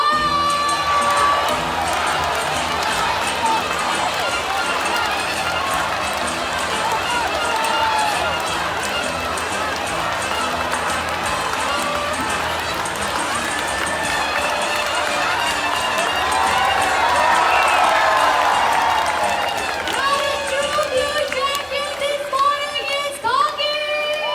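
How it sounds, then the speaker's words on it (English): A crowd cheers, shouts and whoops loudly and without a break for a macaw contestant at a bird show in Jurong Bird Park, Singapore, with children's voices in the mix and an announcer talking over it. "Barry supporters, you have to cheer much louder this time"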